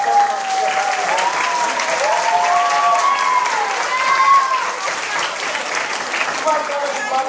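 Audience applause after a theatre show, steady dense clapping with cheering and voices mixed in above it throughout.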